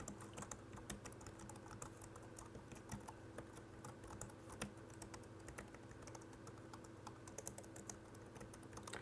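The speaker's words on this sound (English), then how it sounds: "It's a nice quiet keyboard, so a very sort of unobtrusive sound when you're typing" Soft, rapid typing on a quiet scissor-switch keyboard, a steady patter of light key clicks running throughout with no voices.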